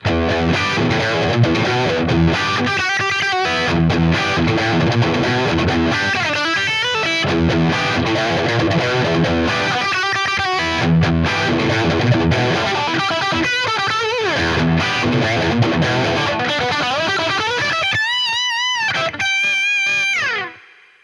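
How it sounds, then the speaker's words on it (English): Lead channel of a Boss Katana-50 guitar amp set to high gain with punchy mids, playing a continuous run of distorted, sustained lead notes that end in bent, vibrato-laden held tones before cutting off, with no talking. "The lead channel is going to be a little bit more high gain, but it's going to give more mid punch like you would want from a lead sound."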